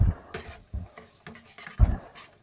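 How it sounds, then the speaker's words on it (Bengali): Bitter gourd masala frying in a pan with a splash of water, stirred with a metal spoon that scrapes and clinks in a few distinct strokes, close and fairly loud, with faint sizzling between them. "এবার এটাকে ভালো করে কষাতে হবে, আমি যার জন্য একটুখানি জল দিয়ে দিলাম যাতে মশলাটা পুড়ে না যায়।"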